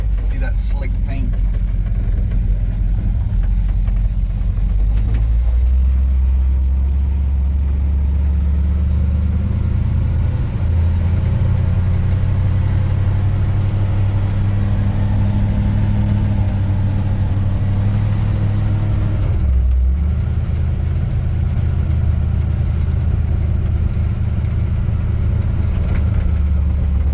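A restored 1947 Ford car drives along with a steady low engine drone that dips briefly near the twenty-second mark before carrying on, loud and continuous from start to end.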